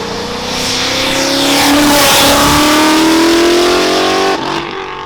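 A 900 wheel-horsepower car accelerating at full throttle with a manual gearbox, its engine note rising steadily and loudly from inside the cabin before easing off near the end.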